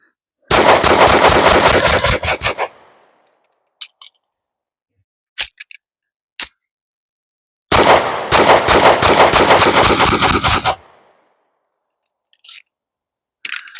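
SAR USA B6C pistol firing two rapid strings of gunshots, each a quick run of sharp, loud, close cracks, separated by quiet with a few isolated metallic clicks and clacks from a reload, no talk.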